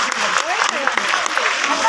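Loud clapping from a large crowd continues steadily, with a voice talking over the applause.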